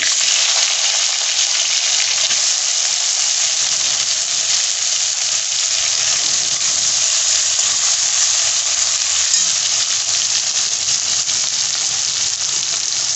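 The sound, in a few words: tomato added to fried garlic, sizzling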